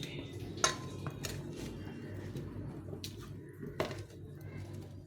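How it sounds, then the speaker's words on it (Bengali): A spoon works hot boiled taro in a dish, giving soft squishy mashing with a couple of sharper clinks against the dish, quiet and close against a low background hum. "যেহেতু গরম আছে, একটু আমি এভাবে চামচ দিয়ে একটু মেখে নিচ্ছি।"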